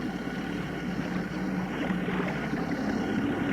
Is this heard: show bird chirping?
no